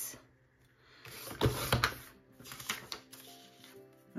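Paper mat for a scrapbook page is cut with a paper trimmer, giving a few close, crisp sliding clicks and snaps in short bursts against a quiet background.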